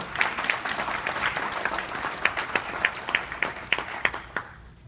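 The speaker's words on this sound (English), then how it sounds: "let's all just have a round of applause just for the victory of this hope" An audience at an Aam Aadmi Party gathering in Chicago claps, a moderate round of applause with distinct sharp individual claps standing out, tapering off toward the end.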